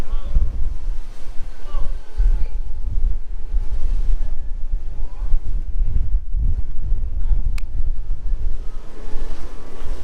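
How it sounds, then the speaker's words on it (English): A pilot boat's engine rumbles steadily amid strong wind buffeting and water noise in the Caribbean, the motor low and continuous as the craft pulls away from a cruise ship. "And once he's on, this boat will take off."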